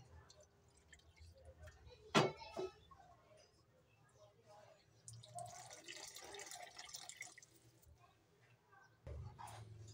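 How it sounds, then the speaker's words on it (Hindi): Half a cup of lukewarm water goes into flour mixed with sesame and ghee for cookie dough, giving quiet drips and a soft squishy pour, with a brief sharp splash early on and a longer faint wet rush later. "आधा कप हम पानी ले लेंगे, नीम गर्म पानी लेंगे हम।"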